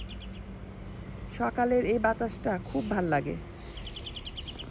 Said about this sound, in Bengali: ঘরের চালে বসে বসে পাখি কিচিরমিচির করছে।